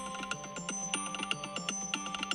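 A phone ringtone called Breaking plays as a quiet, busy electronic tune with steady rhythmic clicks and sustained tones, heard faintly in the background with no voices.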